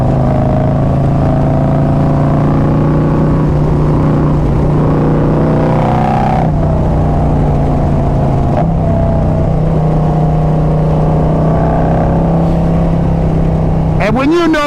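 Harley-Davidson Road Glide motorcycle fitted with carbon fiber wheels accelerates hard, its engine note droning and climbing through a gear change, recorded close from the rider's position with wind noise and a voice over it.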